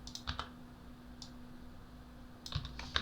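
Keyboard keys and a mouse click in short clusters while a car is modeled in 3ds Max, sharp close taps at the start and end with a quiet stretch between over a low hum.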